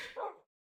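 A pet dog in Minecraft lets out a single short, sharp bark that cuts off abruptly, heard alone at moderate volume.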